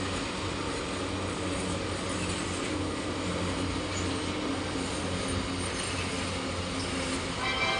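A fast train passing a platform at an Indian railway station, a steady loud roar of wheels and carriages rumbling without pause throughout.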